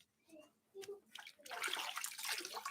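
Water pours and splashes steadily for cleansing after a few quiet moments, rising to a close, rushing flow.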